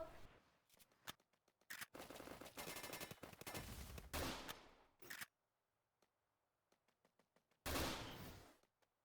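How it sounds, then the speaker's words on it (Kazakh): Gunfire in a shooter video game: loud bursts of rapid automatic fire in two long stretches and a short final burst, with a quiet gap of faint single clicks between them. "тағы да атысатын боламын."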